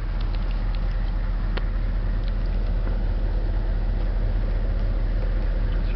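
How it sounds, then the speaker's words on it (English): A 6.5 turbo diesel engine idling, a steady low rumbling drone held at constant level throughout, fairly close and loud, with no talking. "this engine is running, it's idling."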